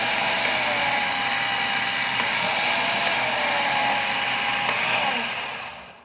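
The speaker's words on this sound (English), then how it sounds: "once you get used to using your food processor, you can switch from high to low" An Elemental 8 food processor motor runs loud and close with a steady whirring drone that shifts slightly in pitch as it changes from high to low speed, then begins to wind down at the end.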